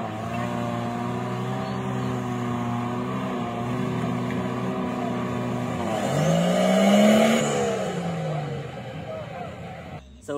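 Off-road vehicles in the Philippine Top Rock Challenge trail race near a hanging bridge in Camarines Sur, engines droning steadily and swelling as one revs and passes close, with an excited voice talking over the noise.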